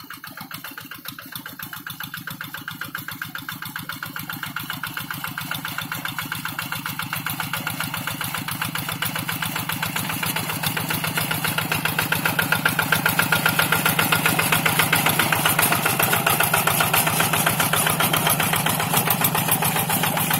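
A two-wheel tractor engine used in a rice paddy idles in a steady, close, rapid putter that grows slightly louder and rougher over the span, with no talk over it.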